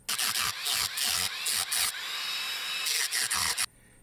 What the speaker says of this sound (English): Remove that with a Dremel tool.